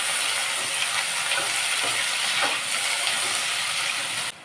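Chopped onion sautés in hot oil in a pan for egg biryani, producing a continuous, even hiss of sizzling throughout. The sound cuts off abruptly at the very end.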